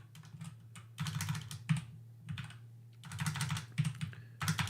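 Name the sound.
typing on a new computer keyboard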